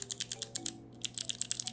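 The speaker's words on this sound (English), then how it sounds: "very clicky keyboard that I built." Rapid typing on a clicky, custom-built mechanical keyboard, close and crisp, with bursts of keystrokes separated by a short pause.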